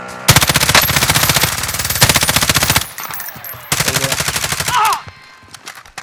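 Automatic weapons fire in a Call of Duty: Modern Warfare gunfight comes in rapid, loud bursts, two long volleys broken by a brief pause, then another burst with a short metallic clink near the end.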